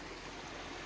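River water flowing steadily on the East Branch in Maine, a dense continuous rushing wash, close and even, with no voices.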